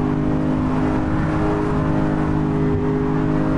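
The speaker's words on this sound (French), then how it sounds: "R8, évidemment R8 V10." An Audi R8 V10 sports car roars past under hard acceleration, a loud, close engine note with a steady harmonic whine that barely swells or fades over the few seconds.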